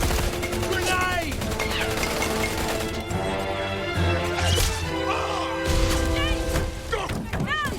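Battle action in the TV drama Sanctuary: a dense clash of gunfire bursts and heavy impacts, with shouting voices and music layered throughout.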